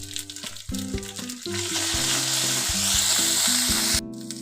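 Ginger paste fries over low heat in a pan with a loud, continuous hiss that builds and holds close, while a melodic tune plays underneath throughout.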